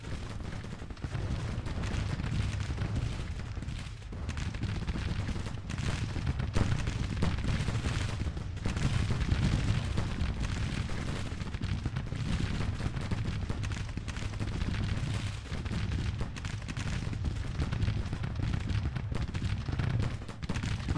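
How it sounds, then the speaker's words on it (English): A Civil War battle in the strategy game Grand Tactician: The Civil War rumbles with dense, unbroken musket volleys and booming artillery, a loud, continuous crackling roar throughout. "Very, very tough firefight here."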